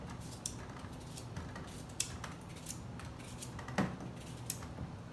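A knife slices cucumber and lime into pieces for a juicer, faint scattered clicks and taps on a cutting surface over a quiet room hiss.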